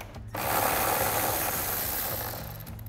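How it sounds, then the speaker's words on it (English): An 8 mm socket spins out a grille bolt on a 2021-2023 Ford F-150, giving a steady whirring, grinding drive close by that runs for nearly three seconds after a brief pause, with no talking. "So we'll grab an 8 millimeter socket to take this out."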